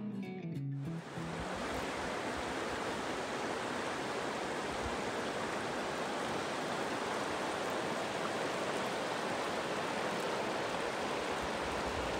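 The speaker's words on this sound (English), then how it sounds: "if you listen, it sounds like there's a waterfall somewhere" A waterfall in the Bluestone Wildlife Management Area, heard from a distance, gives a steady, broad rushing hiss that stays even and unbroken for over ten seconds, with no voices over it.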